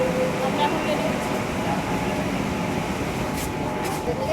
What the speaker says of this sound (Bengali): এই যে ট্রেন ঢুকেছে, এখন আমরা উঠবো।